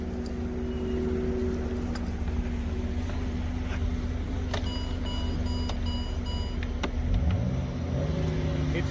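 Car engine still running with the key out of the ignition and the battery disconnected, a steady moderate hum that goes on throughout, broken by a few faint clicks and a brief rising whine near the end.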